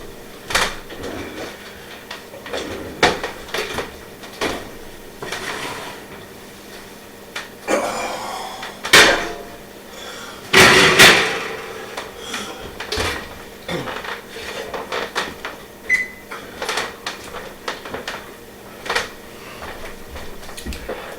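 Home kitchen oven opened and a pan of cinnamon rolls lifted out: scattered metallic clanks and knocks of bakeware, a door thud and a louder rattling clatter mid-way, no talking.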